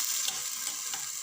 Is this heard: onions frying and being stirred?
yes